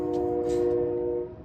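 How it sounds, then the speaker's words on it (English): A passing train sounds a steady, sustained horn tone that holds for over a second, then fades as it moves off. "That's a train."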